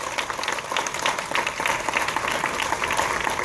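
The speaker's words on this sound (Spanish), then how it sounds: "Den un aplauso al Señor." A church congregation applauds together, a dense wash of many hands clapping at a steady level, heard from within the room without a clear individual rhythm.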